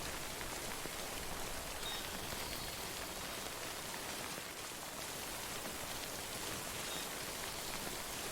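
Rain in the video game Death Stranding: a steady, even hiss of rainfall on surfaces with scattered drop patter, alone and fairly quiet throughout.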